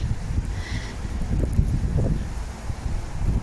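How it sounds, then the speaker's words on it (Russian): Low, gusty rumble of strong wind buffeting the microphone outdoors, steady and blustery throughout. "Ветер сегодня, сильный ветер."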